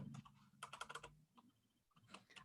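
Quick bursts of typing on a new computer keyboard, close and fairly quiet, with clusters of key clicks separated by short pauses.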